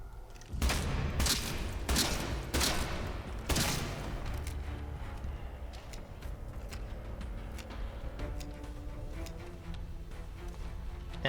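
Rapid bursts of SMG pistol gunfire from the video game Atomfall, several loud volleys in the first few seconds, then a sustained lower-level rumble of game ambience with scattered faint clicks.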